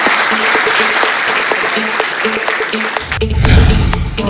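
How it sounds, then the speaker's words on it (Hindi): Audience applause at a retailer prize distribution ceremony, a steady wash of clapping from a crowd with sharp individual claps standing out, swelling louder near the end over a low rumble. "एक बार भरपूर तालियां."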